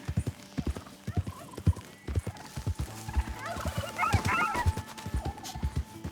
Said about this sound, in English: Excuse me, turkey.